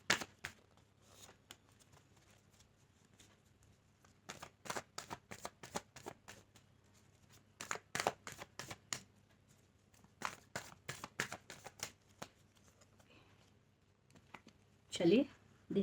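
Tarot cards being shuffled by hand, several bursts of quick crisp riffling separated by short pauses, close and fairly quiet over a low steady hum, ending with a brief rustle.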